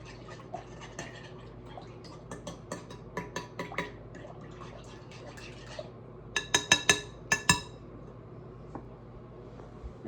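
Bread dough for sandwich loaves being mixed quickly in a bowl, with soft wet stirring, a string of light clicks and taps against the bowl, and a louder cluster of knocks near the end.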